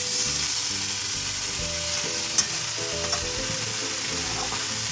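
Potato and cauliflower pieces fry with spices in a hot pan, giving a steady, close, dense sizzle that runs unbroken throughout, with a couple of faint clicks from stirring and no voices.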